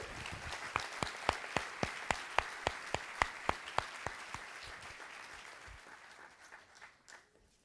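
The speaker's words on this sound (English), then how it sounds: "Round of applause, thank you." A conference audience at a sustainability agriculture members meeting applauds steadily, with distinct sharp claps standing out over a dense wash of clapping that fades toward the end.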